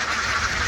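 Ducks on a duck farm, a quick burst of nasal quacking that is loud and close and fills the whole brief moment.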